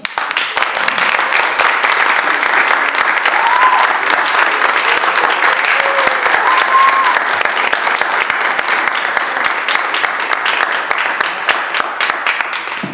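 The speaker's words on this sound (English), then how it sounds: "Round of applause" Loud, dense applause fills the room for a Shark Tank–style student pitch competition, a steady roar of many hands clapping that holds for the whole stretch with faint cheering in the mix.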